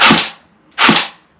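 An electric airsoft gun running on a battery, set to semi-automatic, fires two single sharp cracks about three quarters of a second apart, loud and close, each followed by a short decay.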